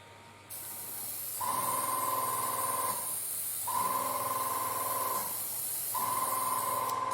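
An airbrush sprays a fine mist in three steady hissing bursts, each lasting about one to one and a half seconds with short pauses between, close and fairly quiet over a faint background hum.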